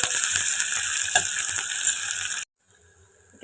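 Sliced onion frying in hot oil in a pan for ghee rice gives a steady, loud sizzling hiss with a few crackles, then stops abruptly and goes nearly silent.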